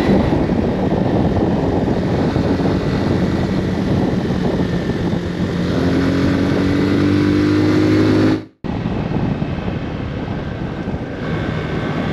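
A small 250cc motorcycle engine drones loudly on a mountain ridge road, holding a steady buzzing note with a rising whine partway through, then cutting off abruptly before resuming more quietly.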